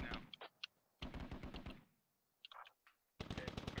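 An MTLB armored vehicle fires its mounted gun in Squad, heard as several loud rapid automatic bursts, close by, separated by short pauses.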